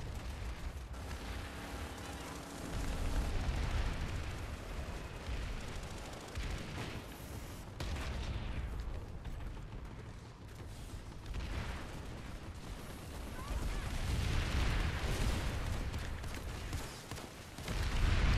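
Tank cannon fire and explosions in the Planetside 2 video game, heavy low booms and rumbling blasts rolling through a dense, murky battle soundscape, moderately quiet and without clear talk.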